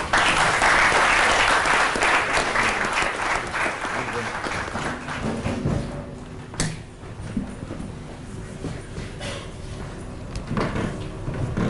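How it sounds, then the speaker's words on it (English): An audience breaks into loud applause that gradually thins out, with scattered claps and some voices continuing as it fades. "Please join me in welcoming Swamiji with a round of applause."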